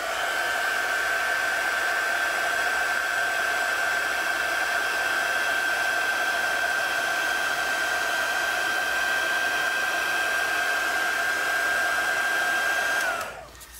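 A heat tool blows steadily for about thirteen seconds, setting colored ink on a card with a constant whirring hiss and high tone, then cuts off abruptly at the end.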